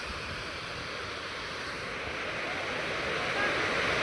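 A continuous roar of water rushing from the open gates of the overflowing Shetrunji Dam at Palitana, broad and steady, growing slightly louder toward the end with no pauses.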